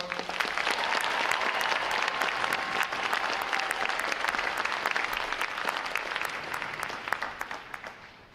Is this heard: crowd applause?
yes